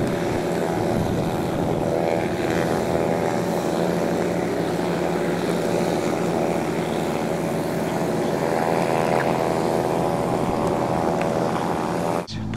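Small propeller airplane at French Valley airfield on a landing pass, a steady, loud engine drone with harmonic hum that holds close and constant, then cuts off abruptly at the end.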